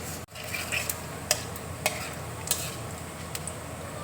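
Dried red chillies and nigella seeds crackle in hot oil, giving a steady low fizz with scattered sharp pops and a few light utensil clicks, fairly quiet and with no voices.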